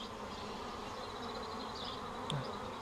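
Honeybees from a good-sized swarm buzz continuously around a hive box, a close, even drone with a single bee passing briefly louder near the end.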